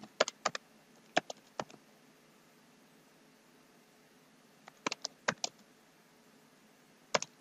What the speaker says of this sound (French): je vais taper session d'information